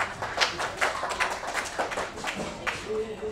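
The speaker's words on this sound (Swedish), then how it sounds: "också Kristianstad HK, en varm applåd." Warm applause from an audience at a beach studio talk show, a steady patter of clapping with a few sharper claps, fairly close, with a brief voice beginning near the end.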